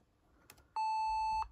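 A single steady electronic beep, clear and sustained for under a second, follows a faint click in an otherwise quiet room, from a vintage DTAfast E4 engine ECU under power-circuit testing.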